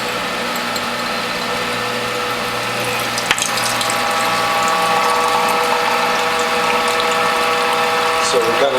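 WHF juicer press cranked to squeeze pumpkin juice, giving a continuous mechanical grinding with ratchet-like clicks and a steady hum, a sharp click near the middle, and a voice talking over it.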